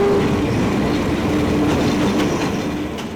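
Train cars rumbling and rattling loudly over the rails close by, a steady clattering roar with faint squeals, gradually easing toward the end.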